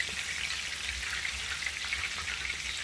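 Stuffed meatballs fry in a pan of oil with a steady, close bright sizzle and small crackles, unbroken and without voices.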